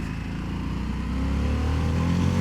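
Harley-Davidson Sportster S V-twin engine while riding, a loud, close, deep rumbling drone that holds steady and swells slightly as the bike pulls, with wind rush over it.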